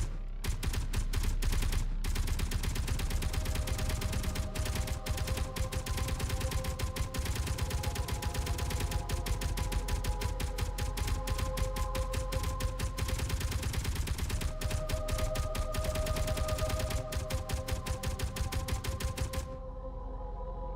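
Rapid, steady weapon fire from a space shooter game crackles almost without pause for about twenty seconds, a dense stream of evenly spaced shots over a low electronic hum, loud and unbroken until it cuts off near the end.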